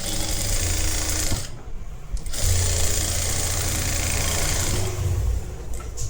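A sewing machine stitches the shoulder and double band of a collar-neck blouse, running loud and close in a steady mechanical whir, pausing briefly once before resuming for several seconds.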